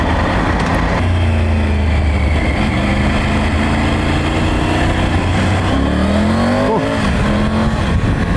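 Triumph Tiger 900 Rally Pro motorcycle in sport mode accelerating hard, engine note climbing through several gear changes with a steady rising then dropping pitch, loud and close with wind noise throughout.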